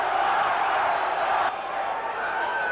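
Boxing match crowd in an arena, a sustained roar of cheering voices as the champion is in trouble late in a 12-round fight, loud and steady throughout, dipping slightly halfway.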